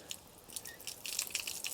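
Water splashes and trickles off a freshly re-waterproofed rain jacket, faint, close patters and drips in irregular bursts over a quiet background.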